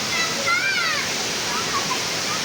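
The upper second tier of a waterfall gives a steady, full rushing roar, with a voice briefly heard over it.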